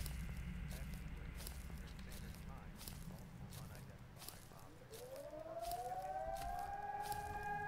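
A low, eerie siren wail from the video game Siren Head rises and bends over a rumbling, noisy ambience, with faint crackles and thumps, fairly distant and muffled.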